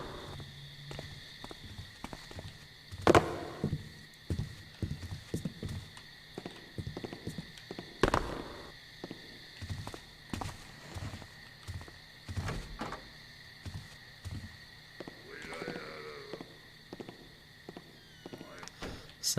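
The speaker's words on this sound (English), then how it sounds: "Sounds like this guy is walking away." Footsteps of a video game character walking away sound as a series of irregular, hollow clopping steps at moderate distance, mixed with occasional sharp clanks and a faint background hum.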